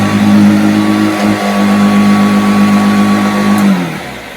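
A 1950s Hoover Junior 119 upright vacuum cleaner runs steadily on a concrete floor, a loud, constant motor whine with a strong hum, then winds down near the end.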